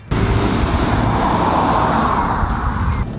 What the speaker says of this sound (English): so we need to get video of this car, so we're kind of driving around a park